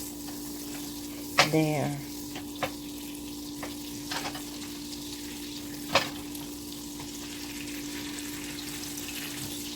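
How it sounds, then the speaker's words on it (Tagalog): Butter melting in a large pan for a garlic butter lobster dish gives a faint, steady sizzle with a low hum underneath and a few sharp clinks, while a voice briefly speaks. "In a large pan, melt the butter first."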